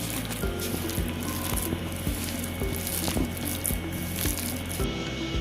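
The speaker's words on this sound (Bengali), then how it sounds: "আমি এখন এগুলো সব একসঙ্গে মেখে নেব।" Bare hands mix a thick batter of ground lentil paste, rice flour, chopped onion, salt, turmeric and chilli, giving steady wet squelching and squishing close up under a constant background hum.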